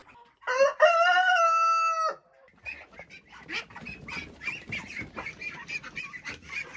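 A loud rooster crows once nearby, then a jumble of clucking and chattering chickens continues in quick, uneven bursts.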